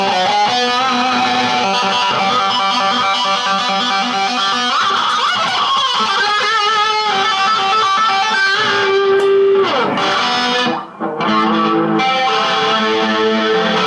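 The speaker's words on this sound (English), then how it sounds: "And so now if I use my distortion pedal" An electric guitar plays through a distortion pedal into a Marshall Origin 5C amp, loud, sustained and heavily overdriven with ringing chords and a bending note near the end.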